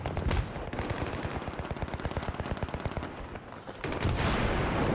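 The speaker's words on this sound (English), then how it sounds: "I hear a lot of gunshots around me." Rapid automatic gunfire from the video game Battlefield 3 rattles in a long, fast, even burst of shots, then breaks off into a rough wash of game noise.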